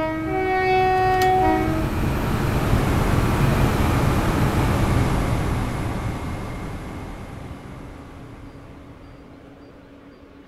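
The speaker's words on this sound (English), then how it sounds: "Now we can just sit back and max out this 170 at 100 miles an hour. Let's do a flyby." CrossCountry Class 170 diesel unit in Train Sim World 4 on the Midland Main Line, passing at about 100 mph: a horn blast opens, then a loud roaring rush that fades steadily as the train recedes.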